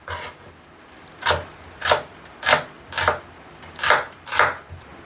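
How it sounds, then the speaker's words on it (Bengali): Onions and green chillies chopped with a knife on a board, six evenly spaced crisp strokes sounding close and clear over a quiet background, with no voices. "আমি প্রথমে পেঁয়াজ কুচি কুচি করে কেটে নিচ্ছি, তারপরে মরিচ কেটে নিব"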